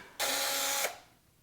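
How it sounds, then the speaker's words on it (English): A drill boring a quarter-inch hole through a cake board, one steady, loud whirring burst lasting well under a second, then it winds down into quiet. "I'm going to drill a 1/4 inch hole."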